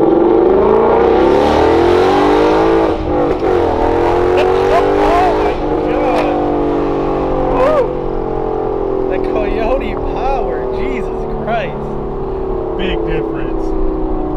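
The Coyote V8 of a 2015 Ford Mustang GT with a Corsa Xtreme cat-back exhaust revs close by, rising and falling in several throaty swells, with someone talking over it.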